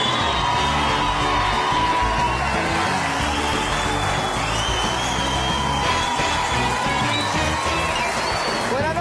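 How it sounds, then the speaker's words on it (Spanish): A studio audience at a Saturday television comedy show claps, whoops and cheers continuously, a loud, dense crowd roar sustained throughout with shouts rising above the applause. "¿Qué tal si recibimos con un fuerte aplauso a Risa Loca?"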